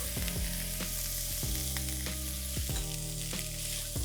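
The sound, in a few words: spinach and corn filling cooking in a pan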